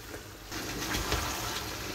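Water being poured into a pot of beef or chicken curry that has been braising, a steady broadband splashing gush running for about two seconds with a slight surge near the end, no talking.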